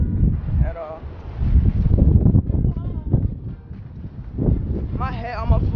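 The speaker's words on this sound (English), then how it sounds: "It's really windy outside." Gusty wind buffets the microphone in heavy rumbling bursts while people talk over it.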